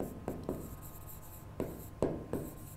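Someone writes an answer by hand during a maths lesson, making close, scratchy strokes in short bursts separated by brief pauses, with no talking.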